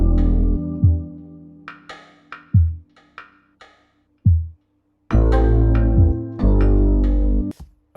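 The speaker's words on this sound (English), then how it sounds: "So the percussion with the other parts sound like this." Layered beat sample with percussion hits over sustained pad and deep bass, several sparse drum strikes in the first half, then a fuller, louder section with dense chords and bass, no talking.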